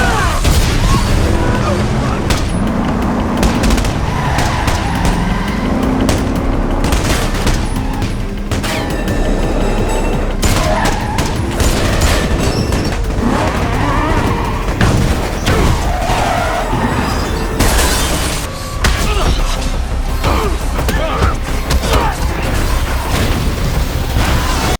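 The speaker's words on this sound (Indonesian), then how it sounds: "diganggu oleh tentara Bayarin menggunakan bom dan baku tembak terjadi" Film battle scene with soldiers attacking using bombs and gunfire: repeated heavy booms and bursts of shooting crowd a dense, loud soundtrack throughout, with layered crashes and pops over continuous rumble.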